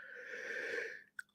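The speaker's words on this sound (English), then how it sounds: "you can tell I'm yawning" A person yawns while feeling tired and drained: one long, drawn-out breathy exhale with a tonal, wheezy quality, close and fairly quiet, tapering off into a short catch of breath at the end.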